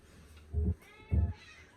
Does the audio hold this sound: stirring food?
no